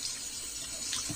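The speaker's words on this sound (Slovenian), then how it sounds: "potem pa ga pod vodo v bistvu vedno umijemo" Running tap water pouring steadily and faintly over a heart rate chest strap being washed under the faucet, a brief continuous splash with no speech.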